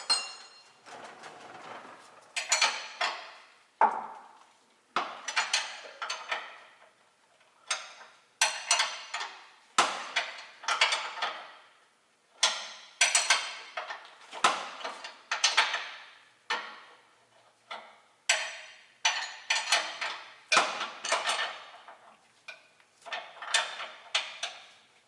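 Wrenching loose the bolts on the left rear strut of a 2004 Ford Explorer 4X4: a string of sharp metallic ratchet clicks and clinks, close and fairly loud, coming in uneven bursts with short pauses between.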